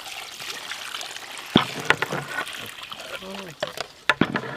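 Water with ginger and garlic stirred into it is poured during home cooking, giving a light trickle and a few splashy, clicking spatters against a quiet kitchen background, with a voice briefly heard.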